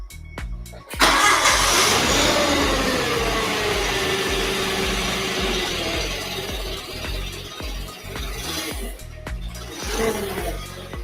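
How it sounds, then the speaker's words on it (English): A forklift engine in a shed turns over and catches, then runs loud and steady, a close mid-pitched drone that eases slightly before a brief rise near the end. "Bit of noise from the forklift."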